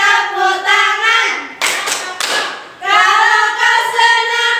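Close, loud rhythmic hand clapping keeps time with the children's song "Kalau kau senang hati tepuk tangan" while voices sing over it.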